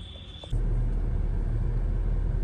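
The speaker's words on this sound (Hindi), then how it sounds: "सो अभी हम एक टेस्ट ड्राइव ले रहे हैं the all new model S jeep compass" A 2021 Jeep Compass Model S turbo diesel on a test drive gives a steady low cabin rumble that swells after a faint high whine, continuous and fairly loud with no talk.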